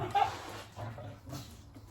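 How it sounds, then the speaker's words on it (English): Two dogs bark in the background of a home kitchen, a few short, fairly faint yips and barks spaced apart over room noise. "two dogs barking in the background"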